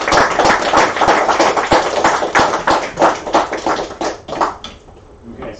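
Audience applause closing a Scala programming meetup, close and lively with distinct individual claps that thin out and fade toward the end.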